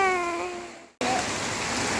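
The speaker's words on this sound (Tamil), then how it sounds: "மழை நிறையா வருது, காற்றடிக்குது." Steady heavy rain with wind hisses loudly throughout, briefly cut off by a sudden break, then returning with a broad rushing wash.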